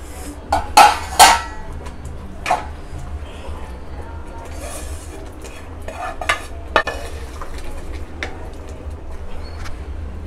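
Mushrooms frying in a pan for paneer mushroom masala, a steady low sizzle under sharp clinks and scrapes of a spoon stirring against the pan, several louder knocks early on.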